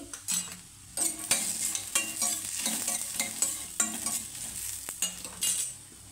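Cumin seeds and curry leaves sizzle and crackle in hot oil for an Andhra-style radish chutney, with repeated sharp spoon scrapes and stirring clatter in a pan close up.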